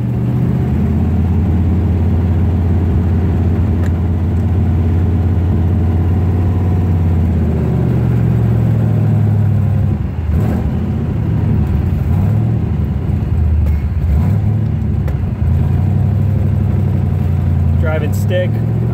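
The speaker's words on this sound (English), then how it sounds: "As you can see, it fires right up." A 1971 Corvette with a 454 engine idles steadily in a deep, loud rumble that holds for the whole stretch, with someone talking over it throughout.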